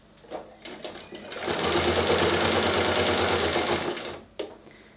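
Sewing machine stitching a face mask, a back-and-forward finishing stitch: a steady motor whirr of a few seconds rising and stopping, with small handling clicks before and after.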